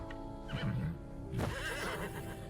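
A horse whinnies twice during a cavalry charge in the video game Wartales, each neigh a rising, wavering cry over a low steady rumble of hooves and battle ambience.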